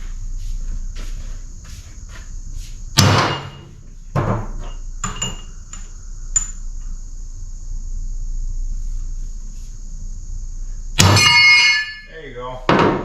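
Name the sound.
hammer striking a punch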